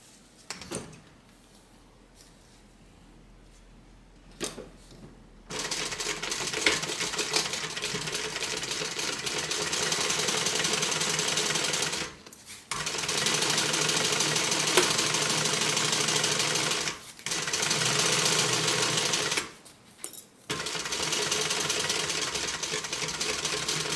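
A sewing machine stitches a water bottle tote bag, running in long, steady, loud bursts with brief pauses where the fabric is repositioned, and softer handling noises before it starts.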